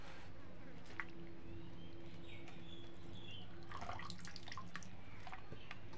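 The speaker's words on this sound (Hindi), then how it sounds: "चलिए थोड़ा थोड़ा करके धो रहे हैं, प्लेट में रख रहे हैं धो के।" Vegetables being washed by hand in water in a village kitchen, heard as soft sloshing and dripping over a steady low background hum.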